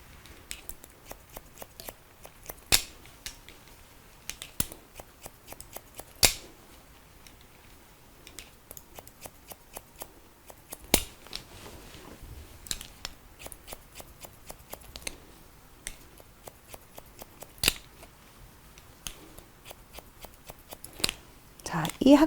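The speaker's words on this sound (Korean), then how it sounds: "가위 날을 약간 세워서 끝이 일자가 안 되게 톱니바퀴 모양이 되게." Scissors point-cutting a woman's short bob with the blades angled upright, a run of crisp, close snips in irregular bursts, with someone talking quietly in between.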